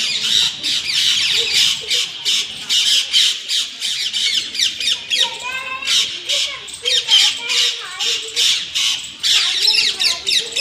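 Many parrots squawk in loud, harsh, overlapping bursts close by, a continuous agitated chorus as a large hawk arrives nearby.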